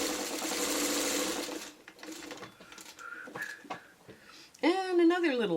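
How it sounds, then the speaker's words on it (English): A sewing machine stitches pieces of a quilt block together in a steady, loud whir for about two seconds. It then drops to quieter mechanical clicks, and a voice starts talking near the end. "And now we're just going to sew here."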